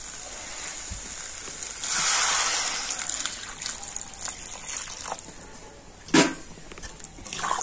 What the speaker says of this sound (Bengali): আর এখন আমি এর মধ্যে দিয়ে দেবো গরম জল।